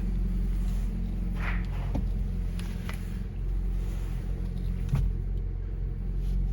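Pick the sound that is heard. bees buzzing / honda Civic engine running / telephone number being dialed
honda Civic engine running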